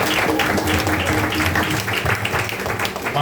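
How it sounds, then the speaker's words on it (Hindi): A church congregation claps in unison during a Hindi-language sermon, the dense applause steady and close throughout, with faint voices mixed underneath. "परमेश्वर के नाम की महिमा के लिए ताली बजाओ"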